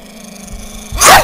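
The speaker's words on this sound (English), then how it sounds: "This dog is a demon!" A dog snarls and growls low and steady, then erupts in a loud, close bark at the end, sounding aggressive while chasing its owner.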